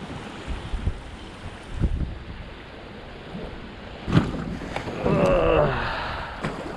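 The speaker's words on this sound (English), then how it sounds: "It's too windy." Strong wind buffets a small fishing boat near an island shore, giving rough gusting rumbles and microphone wind noise with occasional knocks and water splashes, all fairly close.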